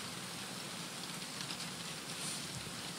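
Steady rain falls during a recorded Thai Buddhist dharma talk, a soft, even hiss of drops that continues without a break and with no speech.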